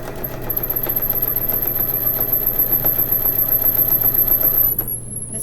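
Home sewing machine stitching a homemade blanket, a steady fast whirring motor hum with rapid needle chatter running nearly five seconds before abruptly stopping as the foot pedal is released.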